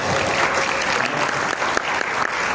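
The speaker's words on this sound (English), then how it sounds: "Why don't we give an applause to the technical people?" An audience claps for the technical crew at a talk, a full, continuous round of applause lasting a couple of seconds with no speech over it.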